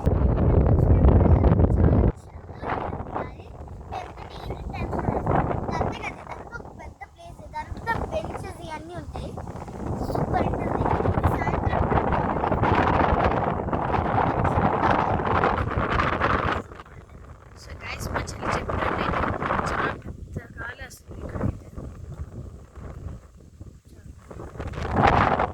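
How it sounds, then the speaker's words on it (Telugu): Strong gusts near the Secunderabad club buffet hit the microphone with heavy, buffeting roars that swell and drop across the whole stretch, swamping most other sound. "ఇక్కడైతే చాలా గాలి వస్తుంది"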